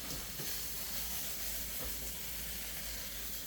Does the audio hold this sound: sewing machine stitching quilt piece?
no